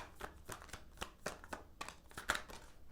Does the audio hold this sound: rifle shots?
no